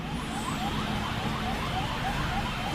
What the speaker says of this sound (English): the board members were driven to their talks via ambulance and police escort